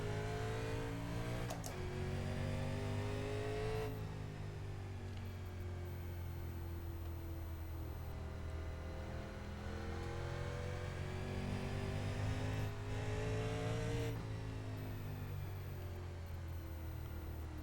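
Simulated NASCAR Legends race cars at North Wilkesboro in iRacing accelerate from a rolling start, their engines droning loudly and steadily with rising pitch sweeps as gears change, running continuously throughout without talk.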